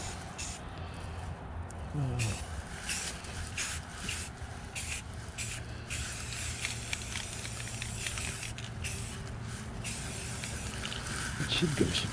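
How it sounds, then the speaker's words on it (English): Repeated bursts of spray hiss close by in short pulses as liquid is sprayed heavily onto a chainsaw wood carving, with faint shuffling and rustling underneath. "even though I'm spraying heavy, it's gonna soak right in there."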